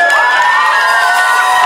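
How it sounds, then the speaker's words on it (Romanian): A concert audience cheering and shouting together in a short loud burst, voices blending into one bright roar, likely with applause mixed in. "Aplaudați!"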